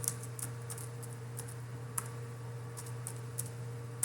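Code is typed on a computer keyboard in quick, irregular bursts of light key clicks, faint and close over a steady low electrical hum, with no talking.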